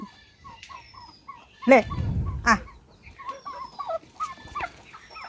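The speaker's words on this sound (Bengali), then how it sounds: "তো এখন আমি মুরগিকে দিতে যাচ্ছি" Domestic chickens cluck and chirp while being fed chopped leafy greens: a steady run of short, close calls with a brief louder rustling burst in the middle, and no talking.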